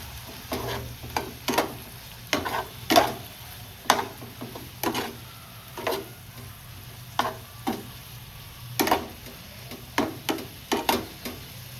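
Beetroot, potato and eggplant with spices frying in a pan with a splash of water, a soft steady sizzle broken by repeated sharp scraping strokes of stirring, close and fairly loud, with no talking.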